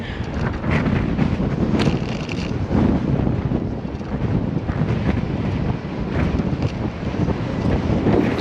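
Steady wind roars across the microphone on an outback gravel bike trail, a strong headwind buffeting loudly and continuously with gusty swells and no voices.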